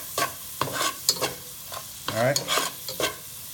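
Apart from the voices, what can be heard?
garlic, cayenne seasoning and butter simmering in a pan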